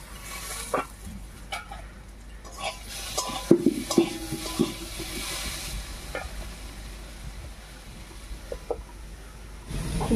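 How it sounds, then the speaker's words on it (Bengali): Potatoes frying under a lid in a pan while a fish curry is being made, heard as a soft continuous sizzle with scattered clinks and stirring knocks, a busier cluster of sounds in the middle, no voices. "এবারে ঢাকা দিয়ে দিয়ে আলুগুলোকে ভেজে নেব"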